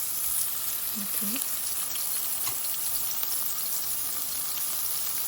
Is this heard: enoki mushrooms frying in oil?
yes